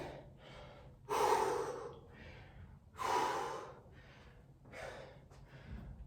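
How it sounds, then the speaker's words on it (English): Heavy, labored breathing close up: deep rasping gasps alternate with quieter exhales in a slow, uneven rhythm, with no talking. "focus on the breathing"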